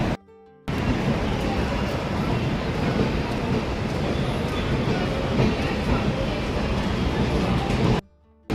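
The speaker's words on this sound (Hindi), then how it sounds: "ट्रेन जा रही है, जैसे जा रही है ना" A train pulling away from a station, continuous loud rolling rumble and wagon clatter close by, with a voice talking briefly over it.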